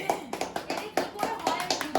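Rhythmic hand claps from a small group at a birthday gathering, sharp and fairly close, about eight beats in two seconds, with voices chattering underneath.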